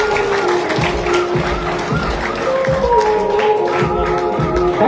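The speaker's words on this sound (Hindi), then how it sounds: "तालियां बजती है पीछे आप लोगों की" Crowd applause at the final ceremony of a local cricket premier league in Gangapur City, steady clapping throughout with music or tonal sounds and voices mixed in.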